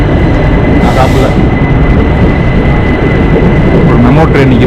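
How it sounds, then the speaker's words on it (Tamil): A MEMU train stands at a station during a Chennai to Mumbai rail journey, giving a steady loud low rumble and hum with a faint high whine throughout, and a brief hiss near the start. "ஒரு மெமோ ட்ரெயின் நிற்கிது."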